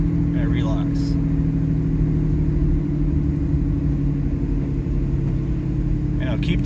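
A Banshee vehicle driving in fourth gear with a VGT controller, its engine a loud steady rumble and drone throughout as the transmission unlocks, downshifts and relocks, with someone talking over it.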